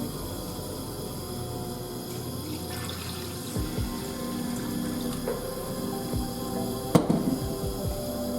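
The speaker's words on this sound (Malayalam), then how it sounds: "കുറച്ച് വെള്ളം ഒഴിക്കാം." Water pours into a pan of horse gram curry, a close splashing rush with a few clanks and taps from the pan and utensils.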